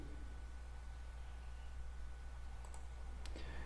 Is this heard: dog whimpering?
no